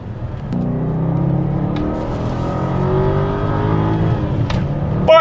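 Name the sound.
Porsche car revving and driving past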